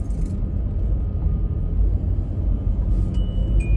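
A Hyundai car drives along a road over bumps, a close, continuous low rumble of tyres and cabin noise with small jolts and a faint click near the end, no talk.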